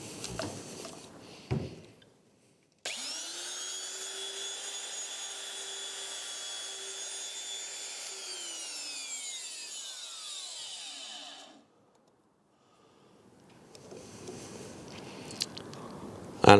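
A plunge router makes a test cut in wood for a hinge recess: a brief start, then a loud steady high whine for about nine seconds as the bit cuts, winding down in pitch and stopping, followed by quiet handling noise.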